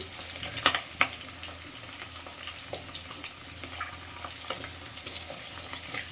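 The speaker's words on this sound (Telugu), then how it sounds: "పచ్చిమిరపకాయలు కూడా వేగిపోతున్నాయి కదా" Green chilies, garlic and onions frying in a pan, a soft steady crackle and sizzle with a couple of sharper clicks near the start and occasional light stirring taps. The sound is moderately close and has no speech over it.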